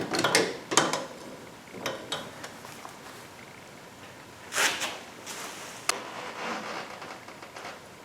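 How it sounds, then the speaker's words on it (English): A bolt is worked out of the intermediate steering shaft of a 1985 car, producing scattered metallic clinks, taps and scraping of tools close by, with quiet gaps between, no talk. "Take the bolt all the way out"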